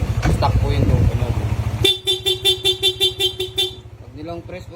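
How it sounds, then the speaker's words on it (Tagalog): Corsa aftermarket horn fitted to a Yamaha NMAX V1 scooter, first a few seconds of steady honking under talk, then a rapid, evenly pulsed series of about ten loud close beeps in rapid mode. "ang in-avail po ni Sir ay yung ating Corsa horn"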